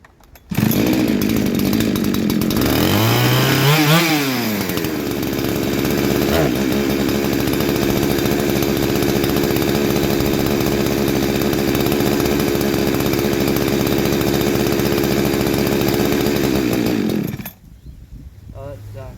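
A Husqvarna 372XP clone chainsaw with a cheap carburettor fires up, revs sharply once, then settles into a loud, steady high-pitched idle for about fifteen seconds before cutting out abruptly.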